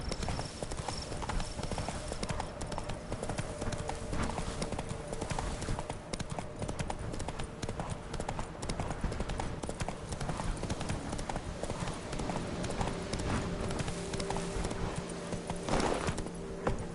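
Horse hooves trot steadily in The Witcher 3, a dense continuous clip-clop close up under a low ambient bed, running the whole time with no clear speech.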